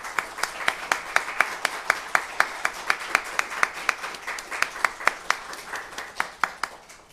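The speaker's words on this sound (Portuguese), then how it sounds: "recebam-o com uma salva de palmas, por favor" Applause at a lecture on marriage law as an audience welcomes the speaker. The clapping is faint and fairly distant, with sharp claps falling in a steady, even rhythm.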